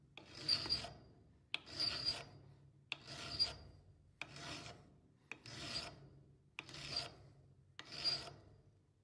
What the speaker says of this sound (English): The cutting edge was then smoothed with a file.